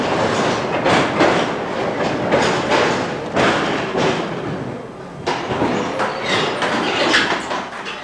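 A 1989 Budapest tram rolling along its tracks with steady rumble and rhythmic clickety-clack wheel thumps over rail joints, loud and close from inside the car, with no talking.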